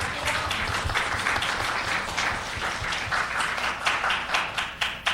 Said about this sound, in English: I'll ask all of you to give yourselves a round of applause.